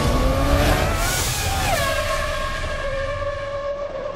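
A Formula One car laps a London street circuit, a loud high-pitched engine whine rising and then dropping sharply as it shifts, close and continuous with no talk.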